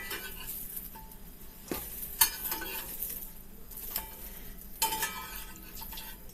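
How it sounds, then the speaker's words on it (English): Mushrooms frying in butter over medium heat, a faint steady sizzle with a few scrapes and clinks of a utensil in the pan, no voices. "I want to cook those mushrooms on a medium heat."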